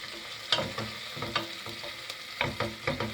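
Cooking pasta sauce with tomatoes and meatballs is stirred in a pan. A utensil scrapes and knocks in irregular strokes over a low, steady sizzle of frying, close up, with no talking.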